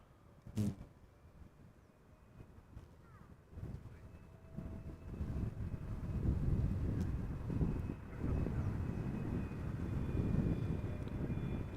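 Jet airliner on a crosswind landing approach at Amsterdam Schiphol, its engine roar building from faint to a steady, broad rumble with wind buffeting the microphone.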